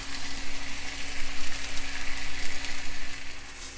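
Peach halves grill in a hot pan with a constant, dense sizzle and crackle that holds steady throughout, close up and with no voices.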